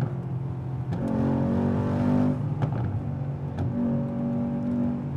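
A Mercedes-AMG S63 in Sport Plus mode revs hard, its deep engine note climbing and dropping in two close, loud surges with a brief lull between them.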